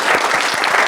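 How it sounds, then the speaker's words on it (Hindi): A live audience at a personal finance class on mutual funds and the share market breaks into dense, even applause, a brief full burst of many hands clapping with no voices over it. "सब एक बार अंकुर के लिए तालियां बजाइए।"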